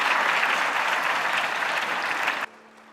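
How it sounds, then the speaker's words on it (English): An audience claps for staff and students at a gathering, a full sustained round of applause that cuts off abruptly near the end, leaving quiet. "Please give a big round of applause for all our staff and students"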